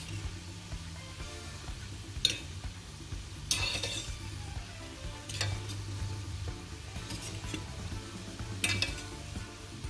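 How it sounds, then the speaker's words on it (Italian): Castagnole carnival fritters bubble and sizzle in hot oil as a utensil stirs them, with several distinct scraping, clinking strokes standing out over a steady low frying hiss. "Faccio questo movimento per permettere alle castagnole di cuocere in modo uniforme"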